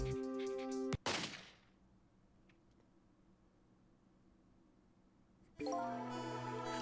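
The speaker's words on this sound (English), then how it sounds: "You'd still be able to hear a gunshot." A single sharp gunshot from the Ghost Trick: Phantom Detective video game cracks loudly once and leaves a long fading tail of near silence before the game's music returns.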